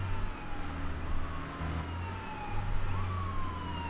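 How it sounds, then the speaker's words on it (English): A police car siren in the Arma 3 video game, a wailing tone sweeping up and down and repeating over a low engine drone, fairly close and unbroken by speech. "his fucking siren is really fucking annoying"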